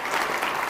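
A crowd applauds at a promotion recognition gathering in a short, steady burst of close, dense clapping with no voices.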